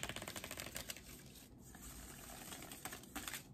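Playing cards riffle in a Friffle and Cascade shuffle, giving rapid fluttering bursts of ticking at the start and again near the end, with a quieter pause between and no talk.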